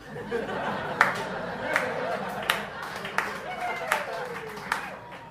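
Scattered clapping from a comedy club audience, a handful of distinct claps spaced about a second apart over low crowd murmur and faint chuckles.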